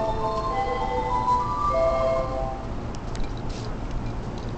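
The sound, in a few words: train departure melody at Kawasaki station platform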